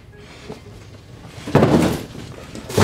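A door in a large cardboard box fort swings shut, giving a muffled thump with a brief scrape after a few quiet knocks, then a second bump right at the end.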